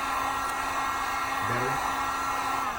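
A hair dryer or heat gun blows steadily on the front of a Coolpad Legacy phone to loosen the back, a constant close whooshing hum that runs unbroken throughout.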